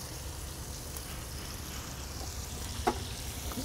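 Burgers seasoned with salt, onion powder and pepper fry steadily on a hot pan after being flipped, a continuous close sizzle with a brief louder crackle near the end.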